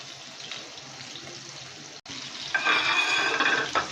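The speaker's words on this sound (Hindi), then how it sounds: "ले जी, ये बड़े ही बेहतरीन जो है ये फ्राई हो रहे हैं।" Seekh kebabs frying in a pan, a quiet steady sizzle that briefly cuts out, then returns louder and brighter as the pieces are shifted and turned over.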